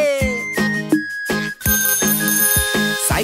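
A bicycle bell rings in quick repeated dings at a bright, loud level, set within a children's Hindi rhyme with a sung voice and music.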